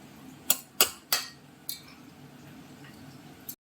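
Rice is fried and stirred in a metal kadai, the utensil striking the pan in four sharp, close clinks in quick succession, with a lighter tap after a pause over a soft background hiss.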